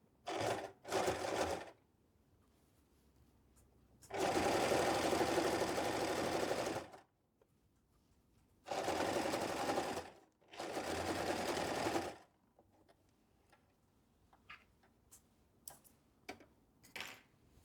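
Sewing machine stitching a dart on a kebaya, running in several bursts: two short quick runs, then two long sustained passes, with faint ticks and handling sounds in the quiet gaps.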